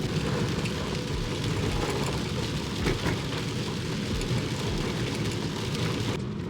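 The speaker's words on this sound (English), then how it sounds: "the heavy rain didn't start until after we got up over Atigan Pass." Heavy rain pours down in a steady, dense hiss while a BMW F80 M3 drives the Dalton Highway toward the Arctic Ocean, unbroken throughout with no voices.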